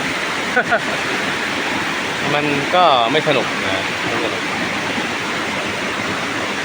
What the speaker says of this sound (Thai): เนี่ยตามแง่หินต่างๆ นี่ก็จะมีน้ำซึมออกมาเรื่อยๆน้ำไหลออกมาเรื่อยๆ